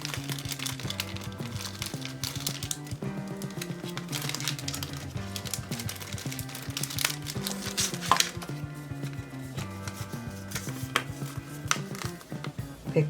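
Rapid, clicky keystrokes from an A2 AG0302 mechanical gaming keyboard with blue switches, typed steadily and close up over background music.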